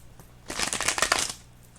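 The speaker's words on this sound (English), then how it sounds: "now I'm just going to shuffle these cards" Tarot cards being shuffled up close, a loud rapid riffle of crisp flutters lasting under a second, then quiet again.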